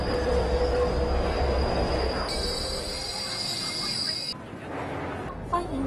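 Crowded Shanghai subway train in motion at morning rush hour, heard from on board: a steady rumbling roar with a sustained high whine and a brief squeal toward the end.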